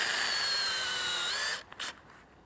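A cordless drill whines steadily at high speed as it bores a tap hole into a maple tree in Vermont, close and loud, then winds down and stops with a few faint clicks.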